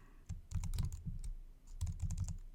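Rapid keystrokes on a computer keyboard come in two close bursts of crisp clicks with a short pause between them. No one speaks while the text is typed.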